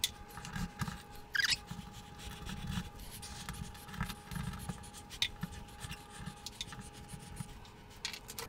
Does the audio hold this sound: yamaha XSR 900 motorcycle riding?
no